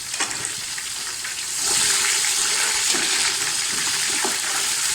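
Green chillies and onions fry in a pan with a steady, hissing sizzle that swells louder after a moment and keeps going, with a few faint stirring knocks.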